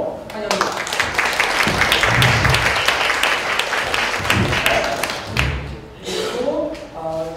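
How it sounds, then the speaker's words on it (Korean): An audience at an ecology conference panel session claps to welcome the panelists, a full burst of applause with a few thumps, fading toward the end as a voice begins speaking. "그리고 박수로 환영합니다."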